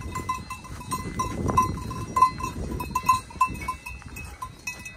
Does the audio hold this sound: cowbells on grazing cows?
yes